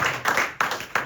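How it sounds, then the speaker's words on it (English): Applause at a cricket club awards ceremony, a crowd clapping in a few quick bursts that swell and fade, fairly close and dominant, with hardly any voice underneath. "Well done, Nick. Yes. Yeah, give him a round of applause."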